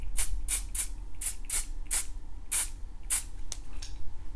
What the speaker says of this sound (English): you're gonna be spraying those sections right there